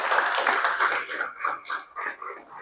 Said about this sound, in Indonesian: Tepuk tangan buat Ijah.